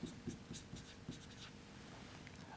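Marker or chalk strokes scratch across a board during an accounting lesson on fund flow, making soft, close, rhythmic squeaks and scrapes in quick bursts, with no talking.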